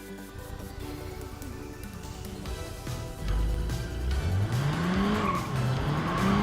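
A car with a 2-litre gasoline inline-four engine revs and accelerates hard while its tyres squeal, the engine note rising in pitch. It grows louder partway through the run and stays loud to the end. No one speaks.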